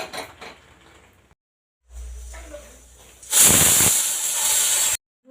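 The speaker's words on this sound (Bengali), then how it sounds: "প্রেসার কুকারটা বসিয়ে দিলাম।" A pressure cooker of dal on a kitchen stove releases a loud, sustained hiss of escaping steam that starts abruptly and holds for over a second before cutting off, following quieter kitchen clatter and a low rumble.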